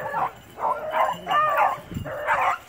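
Rabbit hunting dogs bark and yip in a Tennessee field, a few short bursts of baying at mid distance, with a faint voice briefly underneath.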